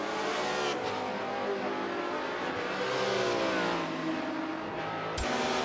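Race cars in Forza 7 at Circuit de la Sarthe, several engines revving and shifting continuously as they approach a chicane, pitch rising and falling with a sharp burst near the end, no talk.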